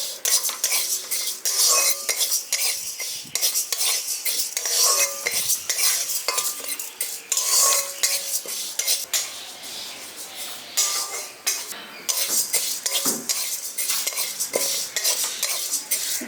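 Moong dal is dry-roasted in a metal pan while a spoon stirs it, giving repeated close scraping and clinking strokes over a soft rustle of grains, rhythmic and fairly loud with no talking.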